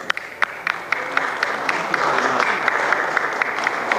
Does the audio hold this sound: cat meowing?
no